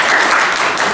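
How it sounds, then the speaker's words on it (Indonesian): Students in a classroom clapping together, a brief burst of dense, fairly loud applause that stays even throughout. "Tepuk tangan untuk kalian semua."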